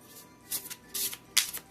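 Cards are shuffled in three quick riffling bursts, crisp papery flutters close by with short pauses between them.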